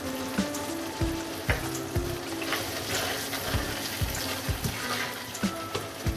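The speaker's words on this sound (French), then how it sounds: "Je l'ai laissé cuire une quinzaine de minutes à feu doux." A vegetable korma cooks over low heat in a pan, giving a steady, soft sizzle with occasional small clicks and pops throughout.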